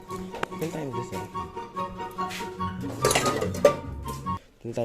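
Metal rice pot clanks and clinks as it is handled and set down, with a person talking over the clatter.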